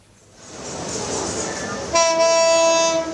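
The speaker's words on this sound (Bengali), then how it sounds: "সবুজ পতাকা উড়িয়ে ট্রেন পার করে দেওয়ার এই দৃশ্যটি" A train rolls past a crossing in Bangladesh, its rumble swelling over the first second into a loud steady roar, then a strong sustained horn blast cuts in near the end and holds.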